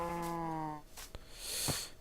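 A cow in the Minecraft video game gives one clear, drawn-out moo, followed by a couple of softer animal sounds and shuffling noises, all close and without any speech.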